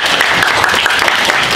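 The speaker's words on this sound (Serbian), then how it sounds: "Aplauz!" An audience claps in dense, steady applause at an event for children from Kosovska Kamenica in Istočno Sarajevo, loud and close without a break.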